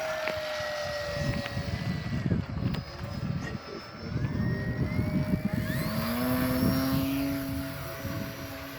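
A Timber RC model plane flies at night at a modelers' field near Sacramento, its electric motor whining steadily and rising and falling in pitch as it passes, with a continuous outdoor rumble underneath.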